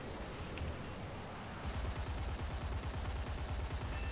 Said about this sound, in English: Incoming rounds.